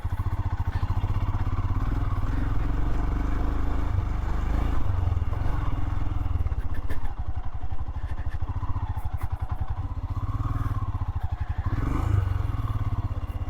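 An adventure motorcycle riding a dirt road through a canyon in Southern Utah, with a steady, close engine drone and rattling, scraping over rough ground.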